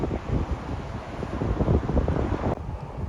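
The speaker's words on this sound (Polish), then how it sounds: "Ale abstrahując od tego wiatru" Gusty wind buffets the microphone outdoors on a Swedish roadside stop between Stockholm and the north, a loud rough rumble that rises and falls for a few seconds without pause.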